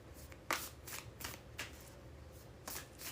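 A deck of cards being shuffled, several quick riffling bursts in an irregular rhythm, close and fairly quiet, with no talking.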